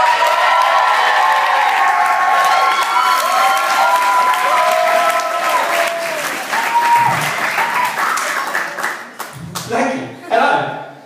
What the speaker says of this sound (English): Round of applause appreciation for Callum Donnelly.